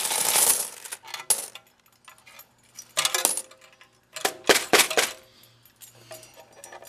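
Canadian loonies and toonies stuck with soap from a laundromat collection drop and clink in scattered bursts, with sharp metallic jingles separated by short quiet gaps and no talking.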